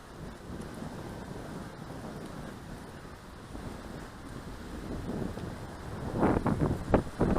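Steady wind roars and buffets around a DJI Mavic Mini drone in flight, a constant broadband rush that grows stronger with heavier gusts toward the end.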